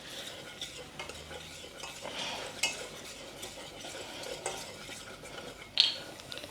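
Flour cooks in a pot for a roux with a faint sizzle under quiet, intermittent scraping and clinks of a utensil, the louder clink near the end.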